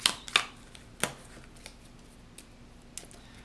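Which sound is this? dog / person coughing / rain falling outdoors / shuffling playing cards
shuffling playing cards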